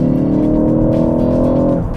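A 2023 Ford Focus ST Track Pack's 2.3-litre EcoBoost engine, with artificial sound enhancement through the speakers, hums at a steady, loud, sustained pitch, holding a constant drone before easing off at the end.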